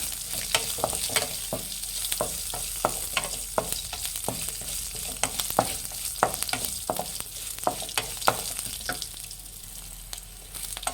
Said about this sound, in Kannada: ಲೋ ಫ್ಲೇಮಲ್ಲಿ ಇಟ್ಟೆ ಫ್ರೈ ಮಾಡಬೇಕು